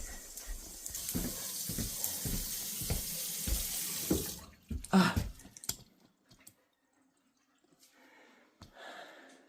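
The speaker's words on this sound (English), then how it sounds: "the water was running that entire time and the sink didn't back up" A bathroom sink tap runs water steadily into the basin and down a newly installed drain pipe. Speech-like bursts sit over the hiss for the first seconds, then the flow continues more faintly.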